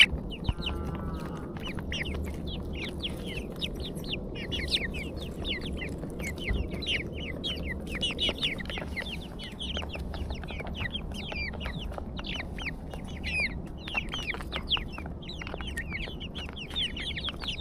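White chickens and chicks on a village homestead cluck and chirp continuously, with many overlapping calls over a low background hum and no speech.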